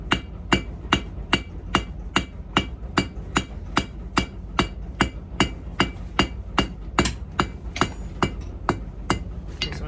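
Steady hammer blows ring out on rivet stock while riveted tongs are being forged, about two crisp metallic strikes per second in an even rhythm, each sharp and bright, heard close and alone.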